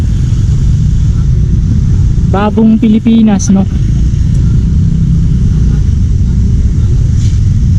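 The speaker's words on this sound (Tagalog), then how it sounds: "kung mapapansin nyo yung traffic ngayon" Road traffic at Luneta Park in Manila, busy because of a special event, with cars and motorcycles forming a steady low rumble throughout. Someone speaks briefly over the noise.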